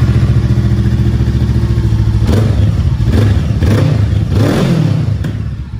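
A new CU 525 motorcycle, priced at 29,800, idles loudly and steadily nearby before its engine is revved in several short bursts, with a rough mechanical clatter running through the low rumble.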